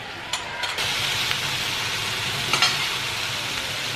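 A spice paste of onion, tomato, ginger, turmeric, green chillies, chilli powder and cumin powder fries in oil with a steady, soft sizzle, broken by a few sharp scrapes of stirring.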